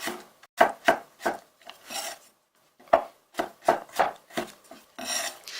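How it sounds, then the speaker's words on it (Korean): A knife slices cucumber on a cutting board in sharp, close taps. The strokes come in short, uneven bursts separated by brief pauses, and no one speaks. "그러면 편 썰어줍니다."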